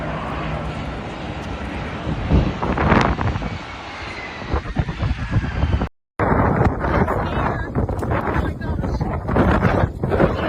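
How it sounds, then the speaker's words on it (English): Strong wind gusting ahead of an approaching haboob dust storm in Phoenix, a loud rushing roar buffeting the microphone with a brief dropout midway, then heavy wind noise again. "Wind is starting to pick up, starting to change color a little bit."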